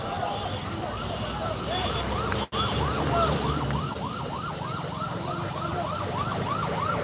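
A fire service vehicle's siren wails in repeated rising and falling sweeps during a gas fire at a CNG pump in Sylhet town, heard fairly close over street noise and crowd voices.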